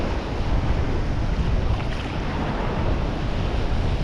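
Ocean waves at the shore after a typhoon, heard while fishing: a constant, heavy low roar of surf mixed with wind buffeting a head-strap-mounted camera, with no voices.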